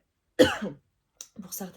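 A single sharp cough bursts out, followed after a short pause by a few soft spoken sounds.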